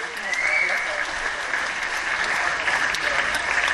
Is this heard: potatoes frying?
no